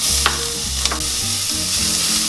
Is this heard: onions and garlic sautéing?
yes